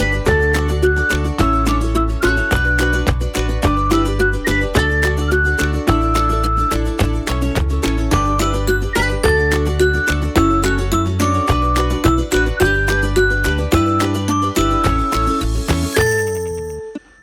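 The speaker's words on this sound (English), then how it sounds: "this is the second intro, but with already some developments and layering." Bright, happy ukulele background music plays as a layered intro, strummed chords over a steady bass and light percussion, dense and continuous before ending with a short flourish and fade.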